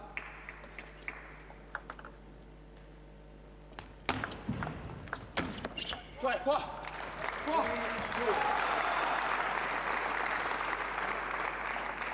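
Crowd applause after a spectacular point at a table tennis match, the 2013 Russian Open men's singles quarterfinal, rising from scattered claps into sustained clapping, with a voice speaking underneath.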